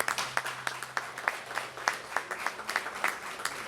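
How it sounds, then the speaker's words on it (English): A modest round of applause from a small crowd at a Louisville Metro Parks and Kentucky Derby Festival event, with clearly separate sharp claps in an uneven rhythm, fairly faint and with no speech over it. "Really a round of applause for these guys."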